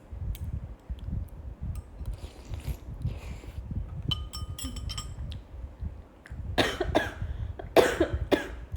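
Coughing fits after choking on soup broth, several rough throat bursts close to the mic, with quieter background noise and faint clinks before them.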